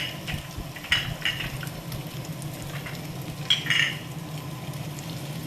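Almonds and cashews fry in a pan with a steady close sizzle and crackle, and a few brighter stirring scrapes stand out briefly; no one speaks.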